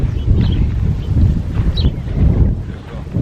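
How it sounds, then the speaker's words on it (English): Wind gusts across a lake at Berners Hall fishery in Essex, a steady buffeting rush with microphone rumble that swells and eases in waves, with no talking. "And the wind is still pouring down this end."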